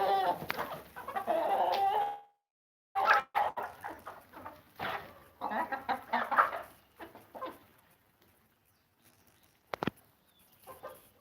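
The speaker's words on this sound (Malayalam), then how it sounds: "എൻ്റെ കയ്യിലുള്ള നാടൻ കോഴികൾ കേട്ടോ" Native country chickens cluck close by in irregular bursts of murmuring calls, with a short silent gap and a sharp knock near the end.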